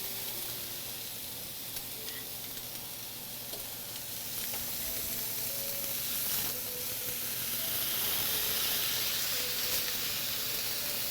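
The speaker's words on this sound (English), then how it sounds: "hearing that sizzle right off the bat is perfect" Duck breast sizzles in a hot pan, a loud, close, continuous frying hiss that grows slightly stronger over its length.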